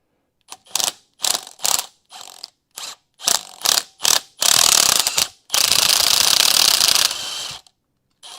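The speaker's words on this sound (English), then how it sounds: "Fine, we'll use the impact wrench." Power tool bursts on the bolts of a racing rig: a string of short, loud, sharp mechanical bursts, then two longer sustained runs of whirring and rattling, close up with no talk.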